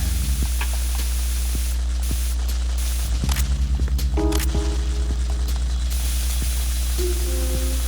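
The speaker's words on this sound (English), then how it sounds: "with my coolant spray." Coolant spray from the Metal Gear Solid 2 video game, a steady hissing spray over a constant low game hum, with several bursts starting and stopping across the stretch.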